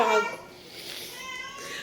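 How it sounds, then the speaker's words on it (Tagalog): A pet cat gives a short meow with tonal harmonics at the start, then a quieter drawn-out cry, fairly close and moderately loud against light room noise. "Yung aking pusa ay lumalandi na naman. Tingnan mo ang ingay."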